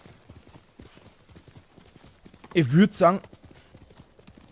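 In the video game Ghost of Tsushima Director's Cut, horse hooves clop in a quick cluster of sharp strikes midway, under someone speaking quietly in German throughout.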